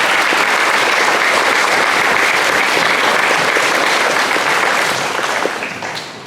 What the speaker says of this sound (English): So we say thank you and a round of applause certainly for all of them